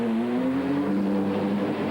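An FIA GT race car from the 2000 season accelerates out of the pits, its engine a loud, close, sustained tone that climbs in pitch as it pulls away.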